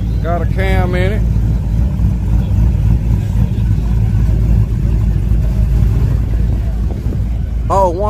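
A cammed Pontiac GTO rumbles at a drag strip with a loud, steady, deep engine drone throughout, and someone talks briefly over it at the start and end.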